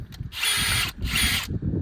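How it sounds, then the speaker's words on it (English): A step bit drills out holes in a mounting panel for rivet nuts on a 2015-or-later Ford F-150, two sustained loud bursts of power-drill whine with ratcheting mechanical noise, separated by a short pause and ending in quieter handling sounds. "We're going to take a step bit and we're going to drill the holes out until they can fit one of our riv nuts snugly."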